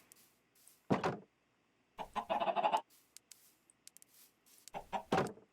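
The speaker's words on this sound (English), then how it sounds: "The chicken just escaped." Chicken clucks and squawks from the Minecraft video game come in several short bursts, clear and fairly close against near silence, with faint clicks between them.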